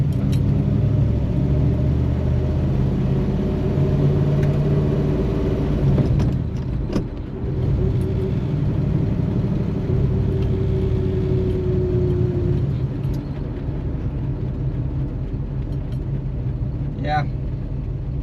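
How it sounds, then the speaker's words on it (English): A Chevrolet Nova drives with its tires rubbing, a steady low engine rumble and road drone inside the car, with faint scraping and rattles and people talking over it. "Okay, lots of tire rub."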